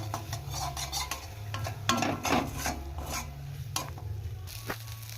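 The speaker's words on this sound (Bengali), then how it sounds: "অবশ্যই এটাকে ঘন ঘন নাড়তে হবে।" Flat bean paste is stirred frequently in a pan as it sticks to the bottom, giving repeated close scraping strokes over a soft sizzle and a low steady hum.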